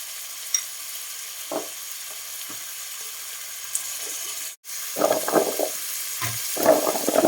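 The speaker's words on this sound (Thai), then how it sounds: "ผัดอันนี้ก็ไม่มีอะไรมากหรอก ใส่น้ำตาลกับน้ำปลาแค่นั้นแหละ" Vegetables stir-frying with sugar and fish sauce in a home kitchen: a steady background hiss, then bursts of sizzling and scraping stirs in the second half, with no voices.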